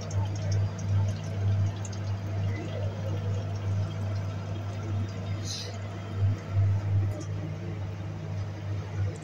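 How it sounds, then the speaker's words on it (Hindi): Water rushes steadily into a single-piece toilet cistern through a repaired ball cock valve, giving a continuous close filling sound over a low steady hum. "अब देख रहे हैं इसमें पानी अब बढ़ रहा है।"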